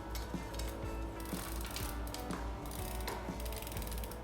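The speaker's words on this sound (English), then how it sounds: "just to get the bike chain out of the way, I'm going to go ahead and put it back on the top sprocket here" A chain on a Himiway electric bike clicks and ratchets as it is worked back onto the top rear sprocket during rear tire removal, a quiet close series of light metallic ticks at an irregular rhythm.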